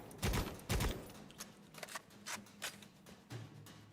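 Shots ring out in Necromunda: Hired Gun, two loud close blasts at the start followed by a scattering of lighter, more distant pops and cracks.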